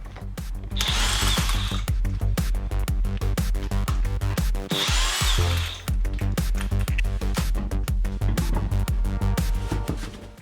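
An impact-style power tool works the wheels off a Jaguar XJ8 (X308, 4.0 litre), loud and close with a rapid hammering rattle in sustained bursts, a brief whine between runs, and no talking.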